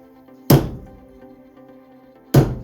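Two sharp, loud thunks about two seconds apart as a wooden cabinet pull is dropped onto a welded shot put stake, each a solid knock with a brief ringing decay.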